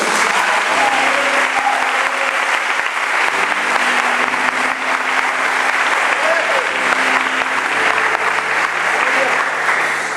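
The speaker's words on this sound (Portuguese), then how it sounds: "Vamos aplaudir ao Senhor" Church congregation applauding, a loud, dense and sustained roar of clapping that fills the space, with faint organ or keyboard tones sounding underneath.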